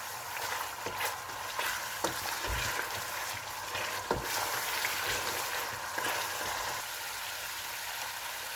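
Mutton and whole onions being fried bhuna-style in masala over a flame, giving a steady, fairly faint broadband sizzle with occasional soft clicks and pops and no talking.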